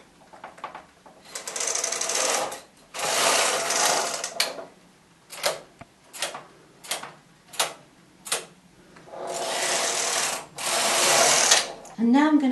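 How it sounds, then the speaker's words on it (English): A knitting machine carriage is pushed back and forth across the needle bed, giving loud rasping sweeps of several seconds followed by a run of shorter quick swishes, close up, with a brief voice at the end. "I'm going to put my hand on the carriage and knit 1 row"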